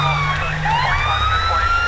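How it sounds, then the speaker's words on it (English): A police car siren in GTA V (LSPDFR) switches tone, its loud wailing sweeps rising and shifting pitch over a steady low engine rumble, continuous and close throughout. "they usually have to change the tone of the siren just to get the driver's attention"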